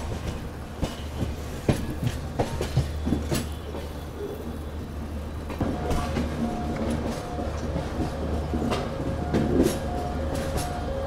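Telangana Express pulling into Secunderabad railway station, with steady rumbling rail noise and scattered wheel clacks and thumps throughout, growing busier partway through.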